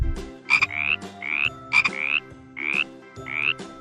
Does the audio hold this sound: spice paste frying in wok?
no